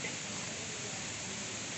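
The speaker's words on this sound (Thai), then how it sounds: "ฝนตกเห็นไหมครับ" Steady hiss of rain falling at Huai Tong waterfall in Mae Hong Son, Thailand, broadband and unbroken throughout, fairly close, with no voices.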